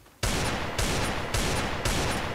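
Loud gunfire from a shooter video game during a one-on-one match: four heavy, closely spaced volleys that follow each other within about two seconds, with no talking.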